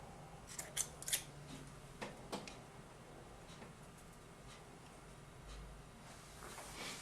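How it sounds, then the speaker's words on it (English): Wire cutters snipping coil wire leads, a few faint sharp clicks close by in a quiet room, clustered early and then spaced apart. "Snip off this side. Snip off the other side."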